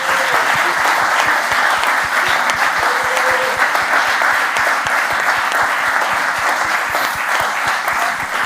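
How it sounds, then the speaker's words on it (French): Sustained, dense clapping from a large audience at a live French stage show, steady and loud throughout with no pauses. "avec les applaudissements encore une fois du public"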